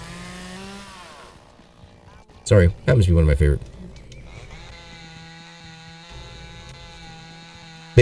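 A chainsaw in a video game roars in a short, loud, rough burst of about a second. Talking and game sounds continue before and after it.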